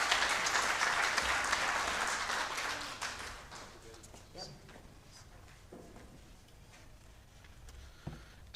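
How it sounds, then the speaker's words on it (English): Conference audience applauds loudly at first, a dense round of clapping that gradually thins and fades into scattered claps and room noise. "Please join me in thanking her once again with another round of applause"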